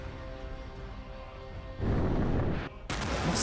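A missile launch in a military simulation video game opens with a low rumbling hum, then a loud, sudden roaring blast. The roar cuts off briefly and surges back even brighter.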